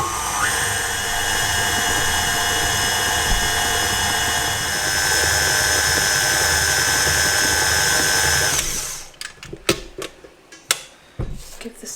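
An electric mixer whirs steadily through cake batter for about eight seconds, loud and close, then cuts off, leaving scattered clinks and scraping from the bowl.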